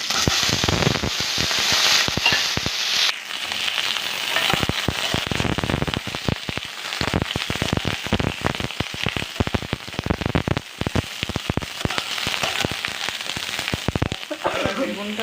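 Green chillies and eggplant fry in hot oil in a Bengali home kitchen, making a loud, dense sizzle with rapid crackling spits and pops that run on steadily from start to finish.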